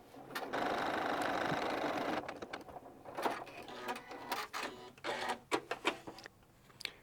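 A Janome 9410 sewing machine stitches a buttonhole in a loud, steady burst of rapid needle whirring that lasts about two seconds. A series of shorter, choppier stitching bursts and mechanical clicks follows.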